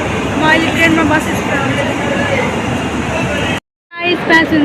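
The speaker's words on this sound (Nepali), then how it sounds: "पैसेंजर ट्रेन हेर्नु" Passenger train at a station, a continuous rumbling roar of carriages close by with crowd chatter mixed in, cutting out briefly before resuming.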